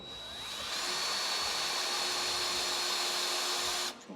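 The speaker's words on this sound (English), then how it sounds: "I can drill a little starter hole" Power drill boring a small starter hole into a front coil-over suspension mount on a 1955 Chevrolet Bel Air, a steady close whine that runs almost four seconds and stops abruptly at the end.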